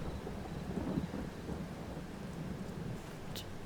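Steady rain hisses with a low rumble of thunder in a Farming Simulator game world, soft and continuous with a faint distant roll, no voices.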